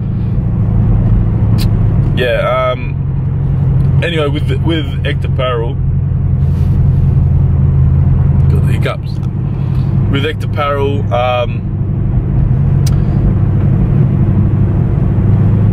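Steady low engine rumble from inside a car fills the whole stretch, with someone talking over it throughout.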